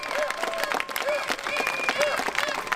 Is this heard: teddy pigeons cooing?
no